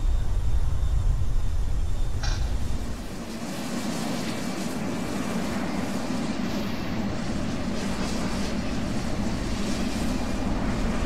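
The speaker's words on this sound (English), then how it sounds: "So let's taxi to runway 9" A B-2 stealth bomber taxiing toward the runway in Roblox Aeronautica gives a steady, droning engine rumble. The sound holds level throughout after an early shift in tone, with a faint airy hiss on top.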